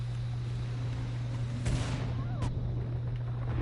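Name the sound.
grenade explosion in video game Killing Floor 2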